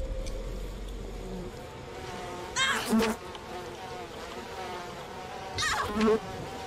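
Bees in the video game We Happy Few buzz in two loud, swelling passes a few seconds apart, over a low, steady background drone, with no talking.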